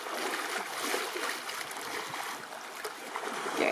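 Water lapping and splashing against the hull of a boat idling in shallow reef water on a breezy day, a continuous close trickling slosh with no talk.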